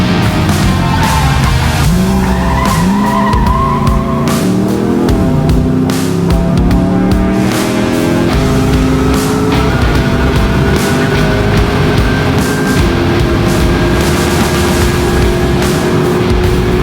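A car races flat out down an airfield runway at an airshow, its loud engine note climbing through gear changes as the speed builds, close and continuous, with tire noise underneath.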